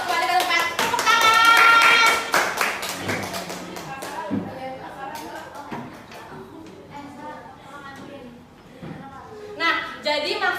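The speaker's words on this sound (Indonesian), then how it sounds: "Tepuk tangan." A burst of clapping from a group in a classroom, loud at first and then thinning out, with some voices and shuffling underneath.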